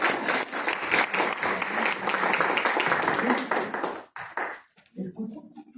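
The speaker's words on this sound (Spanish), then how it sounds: "Fuertes aplausos, por favor." Loud, sustained applause from an audience for about four seconds, then fading out into a few scattered claps and a voice.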